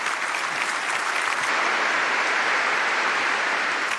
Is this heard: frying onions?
no